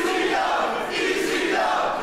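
Crowd at a GWF Chaos City wrestling match with Tommy Dreamer shouting an ECW chant, a brief, loud, continuous wash of massed voices with a rhythmic swell.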